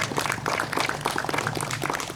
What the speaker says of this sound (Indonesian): Tepuk tangan dulu dong untuk Mas Rizal.